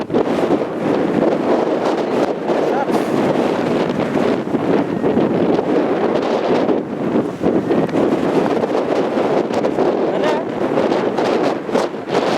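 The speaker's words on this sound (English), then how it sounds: "It's very windy now." Strong wind on a coastal cliff with seabirds, roaring continuously and buffeting the microphone in loud, rumbling gusts, with faint voices at times.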